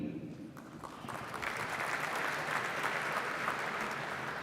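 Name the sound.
audience applause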